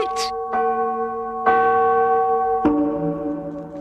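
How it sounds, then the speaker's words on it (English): Church bells in a steeple peal loudly in a staged fairy-tale scene of Hamelin, with three or four strong resonant strikes whose rich tones ring on and overlap. "the Hamelin people ringing the bells till they rocked the steeple"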